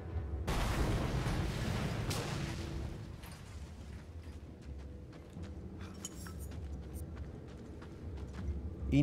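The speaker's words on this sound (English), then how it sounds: "Explosion." Explosion in the Mad Max video game: a sudden loud boom bursts in near the start and rolls into a rumbling roar that slowly fades, leaving lighter clinks and rattles before a final thump.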